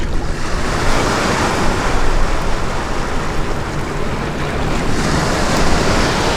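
Waves of an incoming tide wash steadily onto the River Thames foreshore, a continuous close rush of surf with wind noise buffeting the microphone throughout.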